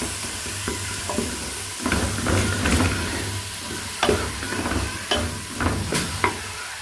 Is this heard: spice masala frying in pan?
yes